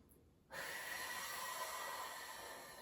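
A single long, hissing breath drawn in during a stretching exercise in a class, starting abruptly after a brief quiet moment and holding steady, close and fairly loud.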